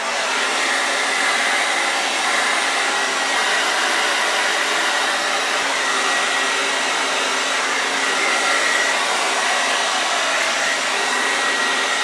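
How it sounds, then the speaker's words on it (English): A blow dryer runs steadily on naturally curly hair, a loud, close, continuous airy roar that holds an even level for the whole stretch with no pauses or talking. "This is the blow dryer."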